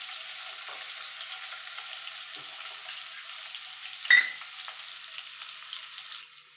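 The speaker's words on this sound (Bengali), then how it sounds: "দিয়ে দেবো আদা কুচি, কাঁচা লঙ্কা কুচি। এটাকেও একটুখানি ভাজা ভাজা করে নেব" Chopped ginger and green chilli frying in a pan after cumin, a soft, steady, fairly faint sizzle with a single brief clink of a utensil partway through.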